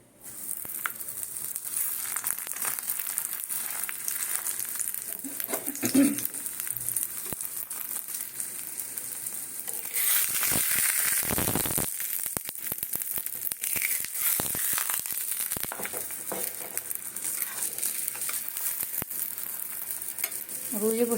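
A stuffed paratha filled with mung dal and chickpea sattu fries in refined oil in a pan over a low flame, giving a continuous close sizzle with scraping and crinkling bursts as it is pressed and turned.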